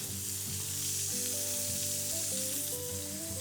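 Chilies and garlic fry in a pan, making a constant broadband sizzle that runs the whole time beneath prominent background music.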